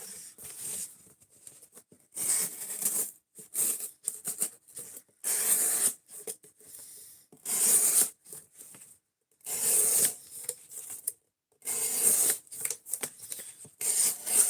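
Steel knife blade drawn freehand across a sharpening stone in repeated rasping strokes, about a dozen bursts of scraping with brief pauses between, close and clear with no talking.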